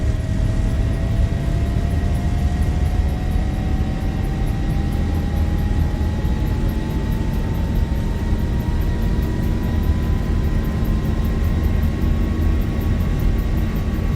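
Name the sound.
Zibo 737 jet taking off in X-Plane 11 flight simulator video game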